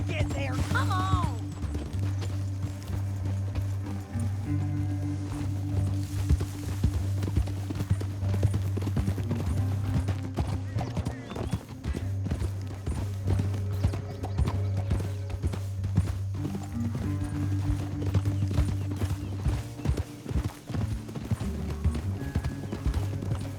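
Hooves of several horses clip-clop and pound at a steady gallop through a Red Dead Redemption 2 video game scene, carried along under a sustained low musical drone, with an occasional whinny and brief voices.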